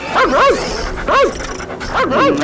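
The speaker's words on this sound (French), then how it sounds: "Doucement, gentil toutou." A dog barks and yips in several quick bursts, close and loud, with short pauses between them.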